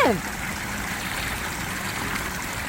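Rainwater trickles steadily through a park after rain, a continuous close gurgling flow, with a brief sliding tone right at the start.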